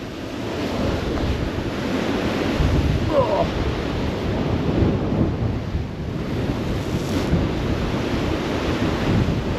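Storm waves crashing and strong wind roaring along the coast at Dawlish during Storm Nelson, a loud continuous rush of surf with heavy wind buffeting the microphone throughout.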